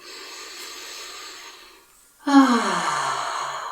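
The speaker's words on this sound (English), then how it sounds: "And breathing in." Deep yogic breathing during a pranayama exercise: a long, airy exhale fades to silence, then a sharp, loud inhalation through the nose rushes in and continues steadily, close to the listener.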